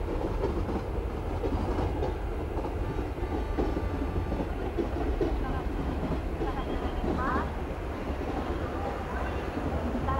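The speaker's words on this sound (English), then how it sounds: "It's time to bring the train to a stop." A braking Indian local train in a train simulator game, with a steady dense rumble of rail noise and wheel clatter throughout, loud and close, and a brief squeal near the end.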